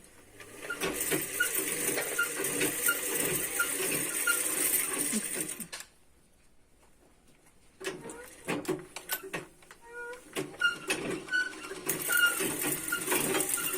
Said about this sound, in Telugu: ఇలా తిరుగుతుంది ఇలా తిరగడం వల్ల బాబిన్కి దారం అనేది ఎక్కుతుంది